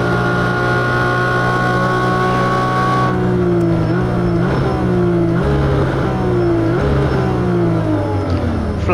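Race car engine in the Automobilista 2 sim racing game, held at steady high revs and then rising and dipping through repeated throttle lifts and gear changes, loud and close throughout.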